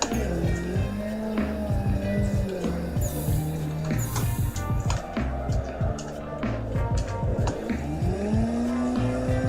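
Drift car in Assetto Corsa at full throttle, engine roaring loud and continuous with rising and falling pitch sweeps, tire squeal and scraping bursts mixed in, with a voice talking over it at times.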